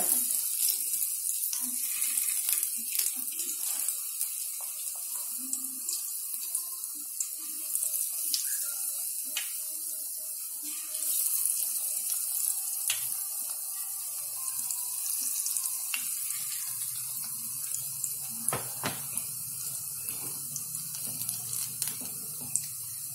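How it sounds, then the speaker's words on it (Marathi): Rain falls outside in cool weather, a steady continuous hiss with faint scattered ticks and patters, no voices. "बाहेर पाणी पडतो आहे"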